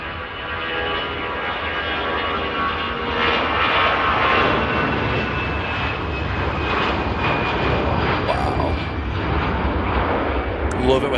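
A Lufthansa jet airliner takes off at Manchester Airport, bound for Munich, rotating close by with a loud, sustained engine roar that holds strong throughout and slowly shifts in tone.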